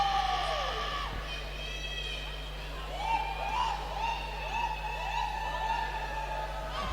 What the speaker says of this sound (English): There's an almost siren-like cheer making its rounds of the venue